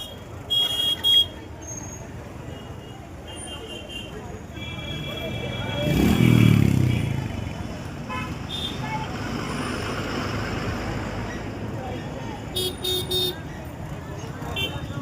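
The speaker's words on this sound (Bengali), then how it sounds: "এই দেখুন রাস্তায় অনেক ভিড়, অনেক জ্যাম।" A crowded road jammed with traffic at a political rally in Jalangi, with a steady engine rumble, scattered horn toots and a passing swell of a heavy vehicle, while people talk nearby.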